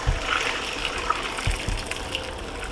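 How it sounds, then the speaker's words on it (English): Hot black bean cooking liquid being strained while making Haitian cornmeal with black beans, a steady pouring, gushing wash of water with a few faint clinks, close and continuous with no talk. "So just take it and strain it because we need to use the liquid"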